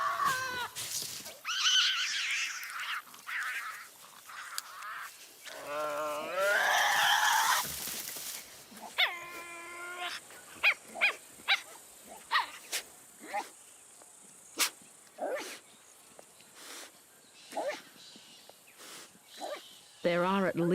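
Tasmanian devils vocalizing around food, with harsh screeching and growling calls early on, then a series of short sharp barks and yips spaced through the rest, fairly close and fairly loud.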